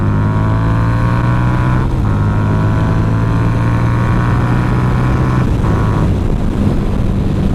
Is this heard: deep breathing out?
no